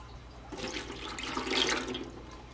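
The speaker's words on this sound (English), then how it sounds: "We're going to put the liquid back in there." Strained Wagyu beef broth poured back into a pot, a short soft gush of liquid that swells midway and then tapers off, fairly quiet with no speech.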